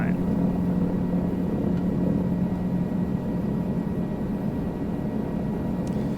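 A helicopter hovers and creeps at walking pace down a runway center line in Microsoft Flight Simulator 2020, a steady, droning rotor and engine hum held at even volume for the whole stretch, with no talk.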